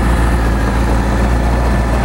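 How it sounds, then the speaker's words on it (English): Honda CBR600RR motorcycle engine idling steadily after starting, a continuous low rumble with a dense even drone throughout, close to the microphone and with no talk. "Fire it off and let you listen to it. Cranks right up, no problems there."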